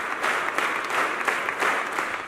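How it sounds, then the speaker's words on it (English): A large audience claps spiritedly at a record-breaking event held by Phaneroo Ministries International, a dense, continuous patter that swells and eases in waves of varying intensity throughout. "Participants engaged in a spirited clapping at varying intensities throughout the duration of the"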